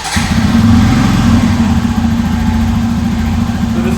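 A motorcycle engine idles close by with a steady, chugging putter after a brief start, loud and even throughout.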